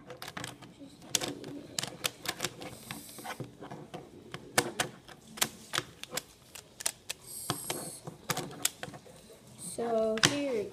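A plastic pyraminx puzzle is twisted rapidly to scramble it, producing a fast irregular series of sharp clicks and clacks, close and fairly loud, with brief speech at times.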